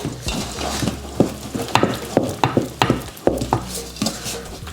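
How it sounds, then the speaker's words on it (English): Wooden spoon stirring pancake batter in a bowl, a quick series of close, sharp scraping knocks in an uneven rhythm over a low background hum, no talking. "I really want to mix it until I don't see those big things."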